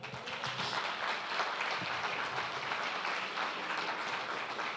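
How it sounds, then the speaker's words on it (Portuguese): A church congregation applauds in a steady, even wash of clapping heard from some distance, a soft continuous patter with no voices on top. "Aplauda o Senhor."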